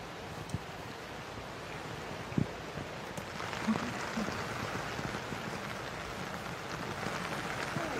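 Rain falling on a golf course during a women's professional tournament final round, a soft steady wash of drizzle with light gusts of wind and a few faint knocks, moderately distant.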